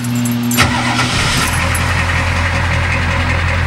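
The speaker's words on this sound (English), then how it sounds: "Starts right up, runs beautifully, runs in high idle" A 1985 Ford F250 diesel with a veggie oil conversion cranks briefly, catches and settles into a loud, steady, clattering high idle, heard up close with no talking.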